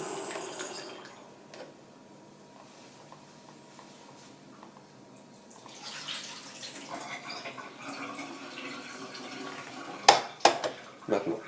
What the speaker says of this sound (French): on voit l'eau qui était à l'intérieur de la machine, qui est en train de sortir